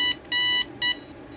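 Three sharp electronic alarm beeps from a Curtis CR1336 clock radio in a quick uneven pattern, loud and shrill, sounding alone with nothing else around them.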